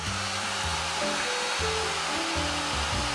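Hair dryer or heat tool blowing steadily at close range to dry ink on a journal page, a loud continuous whirring hiss with shifting motor tones and no talking.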